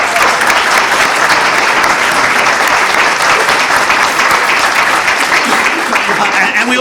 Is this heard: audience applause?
yes